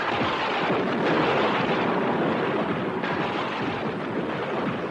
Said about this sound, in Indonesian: Tiba-tiba terdengar datangnya suara petir menyambar-nyambar.